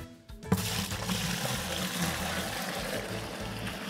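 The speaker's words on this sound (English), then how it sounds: "Our fermenter here has already been nice and sanitized. It's gonna transfer our beer into it." Chilled home-brewed tropical IPA runs into a sanitized fermenter as a steady, close pouring and trickling flow, with a brief clunk near the start and no talking.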